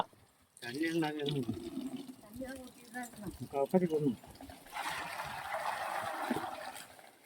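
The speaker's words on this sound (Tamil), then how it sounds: "கொப்பரையில் வந்து பார்த்தீங்கன்னா தண்ணி ஊற்ற ஆரம்பிச்சாச்சு" A person talks for a few seconds, then water pours steadily into a large cauldron for parboiling paddy at a village home, a broad rushing splash continuing alone at moderate volume.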